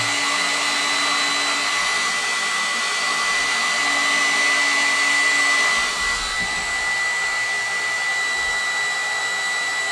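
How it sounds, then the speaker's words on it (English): A heat blower runs steadily at close range, pushing a constant loud airy whoosh with a faint high whine as it warms and melts glue, with no talking over it. "I'm going to put a little heat on here and melt the glue."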